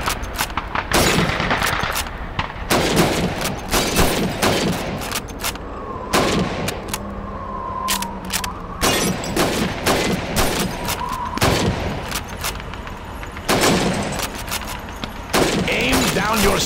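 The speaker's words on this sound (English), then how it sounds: "Shoot those bottles and plates." Rifle shots at bottles and plates on a Red Army training range in Call of Duty 2, sharp cracks fired one after another at irregular intervals across the stretch, with an instructor's voice between them.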